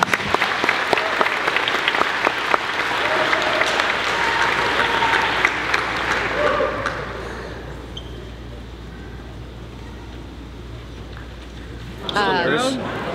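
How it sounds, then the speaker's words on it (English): A gathering applauds a high school girl's signing to play Division I soccer at Longwood University, a few seconds of clapping that fades into quieter room noise and talking, with a brief noisy burst near the end. "Give her a good round of applause."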